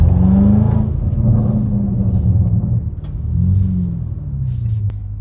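A BMW G99 M5 with downpipes installed and no mufflers or resonators gives a loud, close, raspy exhaust drone that rises and falls as the car drives on the highway.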